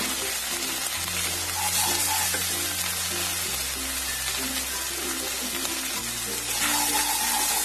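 Turmeric, red chili and Kashmiri chili powder frying in a pan for a charapona fish curry with eggplant and potato, a moderate continuous sizzle with stirring, close by, with a low steady hum underneath and no talking.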